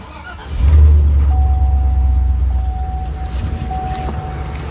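Car engine cranking and firing up on a JFEGWO F40 jump starter, a loud low rumble catching after a short crank, then settling into a steady idle with a faint thin whine above it.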